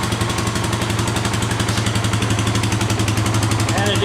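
A rebuilt 570 engine runs steadily at a fast, even idle, loud and close, with a rapid regular pulsing throb and no revving.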